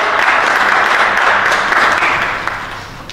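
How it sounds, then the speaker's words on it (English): An audience at a magic show applauds a volunteer with a full, loud round of clapping that holds steady and then tapers off toward the end. "Everybody give Halsey a big round of applause."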